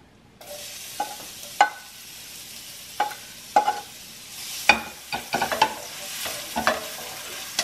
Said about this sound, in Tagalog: Gigisa ko siya